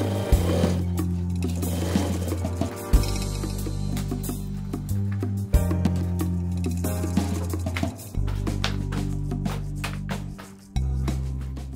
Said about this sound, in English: After all of the sides are sewn, it is time to close the raw seams with the bias tape